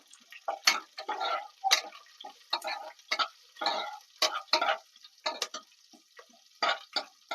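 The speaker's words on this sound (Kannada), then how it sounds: "ಒಣಮೆಣ್ಸಿನ್ಕಾಯಿನ ಹಾಕೋತ ಮಿಕ್ಸ್ ಮಾಡ್ಕೊಳ್ಳೋಣ" Dried red chillies are stirred in a pan for a greens sambar, making a quick series of sharp, dry crackles and taps in a close, uneven rhythm with short quiet gaps between them.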